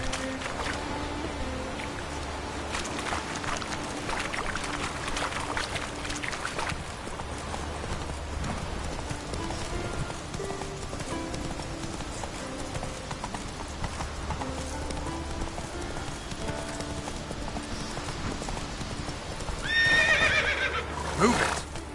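Horse galloping in The Witcher 3, a steady rapid clip-clop of hooves running on for the whole stretch, with a loud neigh near the end, under continuous game ambience and a brief spoken command.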